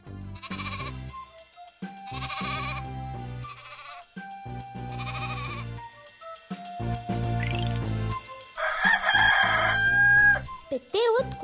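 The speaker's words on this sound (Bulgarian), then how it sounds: "Петелът кукурига от рано сутринта." A rooster's cock-a-doodle-doo sounds near the end of a children's song about animals, loud over a bouncy musical backing with sheep-like bleats heard earlier.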